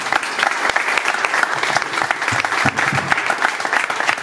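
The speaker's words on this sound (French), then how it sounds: "Je pense qu'ils méritent nos applaudissements" Dense, sustained applause from an audience at the inauguration of a shop run by two shopkeepers in Brumath, steady and loud throughout with crowd noise, no talk over it.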